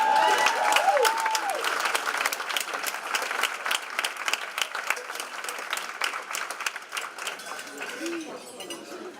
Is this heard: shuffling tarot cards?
no